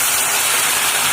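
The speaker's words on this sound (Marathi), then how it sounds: "पाणी चांगलं उकळू द्यायचं" Water heating in a pan for ragi mudde gives off a steady, loud, close hiss of boiling and steam that runs unbroken, with no one speaking.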